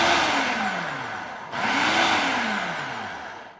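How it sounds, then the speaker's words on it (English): A food processor with a tart crust mix of flour, salt and dry ingredients runs in two loud motor pulses, each whirring up and winding down, with a short break between them and no talking. "just pulse the machine a few times to blend the ingredients"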